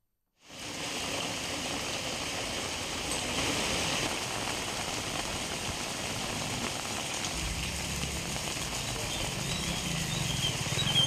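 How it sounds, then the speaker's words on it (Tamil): Heavy rain pours in Coimbatore, Tamil Nadu, a dense steady roar of drops on surfaces that builds slightly over time, with no distinct thunder and no voices. "பலத்த இடியுடன் கூடிய கனமழை பெய்தது"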